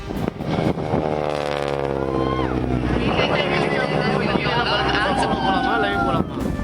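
An Indian Air Force heritage Harvard propeller aircraft performs aerobatics, looping and flying inverted, with a loud, steady engine drone whose pitch slides as it passes, mixed with wind noise.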